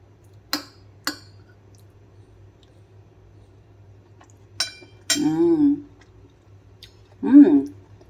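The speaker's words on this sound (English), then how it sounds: "let's taste my paneer burji" Someone eats homemade spicy paneer burji with cutlery: a couple of sharp clinks of a spoon on a plate, then soft chewing and mouth sounds, with brief murmured vocal sounds near the end.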